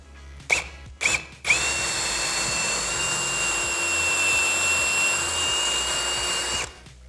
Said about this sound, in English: Grab our battery and drill.